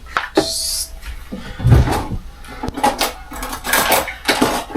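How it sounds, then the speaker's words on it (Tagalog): A bowl is pulled out from among stacked dishes, bringing a run of ceramic and metal clinks, knocks and a cupboard-like thud, close and fairly loud with uneven rhythm and no speech. "Kuha tayo ng mangkok. It's like a bowl, you know."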